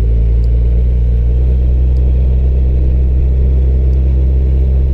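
Suzuki Hayabusa motorcycle engine rolling slowly through city traffic, a loud, steady low rumbling drone that holds constant without revving throughout.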